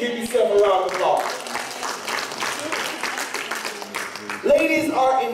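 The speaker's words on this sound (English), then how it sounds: "Ladies, give yourself a round of applause." Audience applause at a church-style talk, a full room clapping steadily for several seconds with a brief swell near the end, mixed with faint voices.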